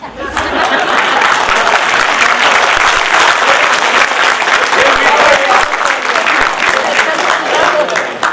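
A dense, loud wash of audience clapping at a Hindi comedy poetry gathering (hasya kavi sammelan), continuous and close, with some chuckling mixed into the crowd noise.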